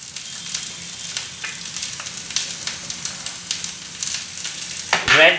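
Cabbage and carrots frying in a pan for chicken fried rice, a steady close sizzle with faint stirring scrapes throughout, swelling louder near the end.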